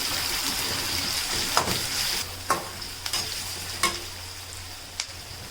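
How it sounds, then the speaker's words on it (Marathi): Chopped onion fries in hot oil for a vegetable biryani base, with a constant hissing sizzle and several distinct clacks and scrapes as it is stirred, sounding close and fairly loud. "आता त्यामध्ये आपण कांदा चांगला शिजवून घेऊयात कांदा आपल्याला आता पूर्णपणे शिजवून घ्यायचा आहे"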